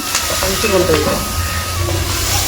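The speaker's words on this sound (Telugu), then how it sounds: "కర్రీ లీఫ్ అయితే యాడ్ చేసుకుంటున్నాం కరివేపాకు వేసుకుంటున్నాము" Curry leaves dropped into hot oil give a loud, continuous hiss and crackle that holds steady for a moment, with a voice talking briefly over it.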